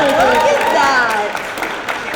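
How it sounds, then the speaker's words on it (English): Audience applauding at a TwitchCon 2023 retro gaming panel, a sustained wash of clapping and crowd noise under a loud voice speaking over it. "Give them a big round of applause"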